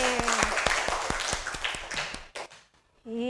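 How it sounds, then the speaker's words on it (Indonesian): A class of students claps together in a rhythmic, evenly spaced pattern of sharp claps, close and fairly loud, then breaks into a brief scatter before a short pause and a voice starting. "Oke, tepuk tangan untuk kita semua hari ini."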